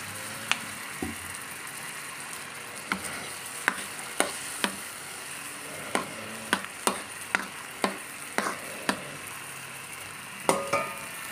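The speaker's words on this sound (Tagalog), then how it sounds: "maglalagay ako dito ng soy sauce" Chicken gizzard sizzles steadily in a hot pan as soy sauce goes in, a soft continuous fry broken by sharp clicks and taps of a utensil stirring against the pan, close and alone without talk.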